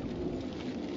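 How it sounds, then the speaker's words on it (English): Rain falling in a thunderstorm in the video game Drakan: Order of the Flame, a steady dense hiss with a low rumbling undertone, fairly quiet and continuous. "Yeah, thunder."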